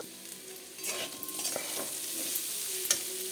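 A spoon stirs pea ghugni in a pan with scraping strokes over a low, even sizzle; the stirring grows busier after the first second and continues close by.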